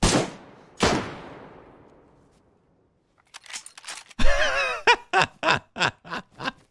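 Two loud, sharp gunshots in the DayZ survival game, each followed by a long echoing decay, then quiet, and after that a person laughing in short bursts.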